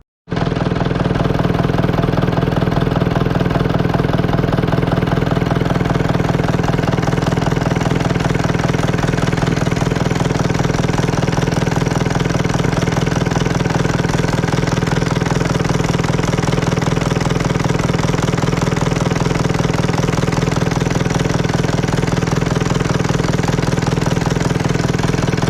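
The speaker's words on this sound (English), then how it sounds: "I'm going to do is start the tractor and see if I can see anywhere here where there's any obvious fuel leaking out." A Fordson Major tractor's diesel engine idles steadily at close range, a loud, even rumble with a constant low throb that holds unchanged for the whole stretch with no voices.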